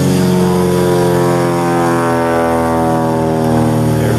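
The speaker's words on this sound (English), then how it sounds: "Airplanes." An airplane passing overhead outdoors, a loud steady droning engine hum with sustained tonal whine that holds evenly for several seconds, no voices.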